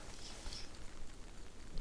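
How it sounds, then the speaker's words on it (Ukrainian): Rain falls during a November pike fishing trip on the water in Ukraine, a steady soft patter close by with scattered drops tapping throughout and no talk over it. "Такий реально вже неприємний дощ."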